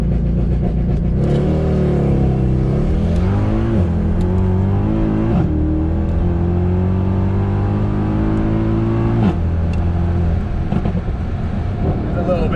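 A car on Michelin PS4 tyres launches hard and accelerates through several gear changes, the engine loud and close from inside the cabin, with occupants talking over it.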